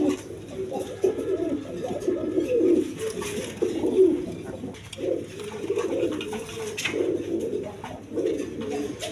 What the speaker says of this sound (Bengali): সিলভার কবুতরের বেবি, জিরো ফেদারের এক ঘরের বাচ্চা